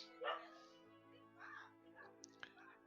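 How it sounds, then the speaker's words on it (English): Dogs bark and yip faintly in the background, a few short sharp calls spread over a couple of seconds beneath a quiet indoor hum. "I apologise for the dogs."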